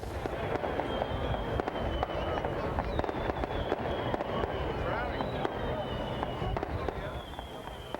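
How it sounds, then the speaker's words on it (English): Fireworks fired from pipe mortars off a barge at a Juneau, Alaska show burst in a dense, continuous barrage of loud booms and crackles, with whistling rising tones and crowd noise underneath throughout. "During the show, the fireworks will be fired from mortars that are pieces of pipe."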